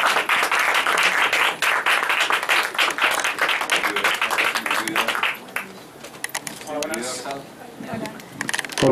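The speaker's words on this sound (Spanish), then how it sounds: "Un aplauso." A crowd at a band's album presentation in Mexico claps loudly and densely for about five seconds, then the applause thins and fades as voices and scattered claps continue.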